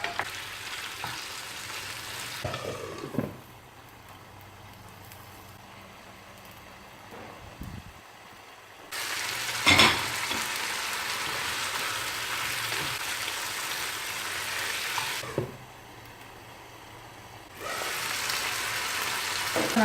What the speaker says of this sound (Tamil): சிக்கன் சேர்த்து ஒரு 2 நிமிஷம் வதக்கி விடலாம்.